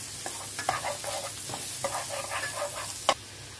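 Food is stirred in a sizzling pan, with repeated scraping strokes and occasional sharper knocks over a continuous soft fry at moderate volume.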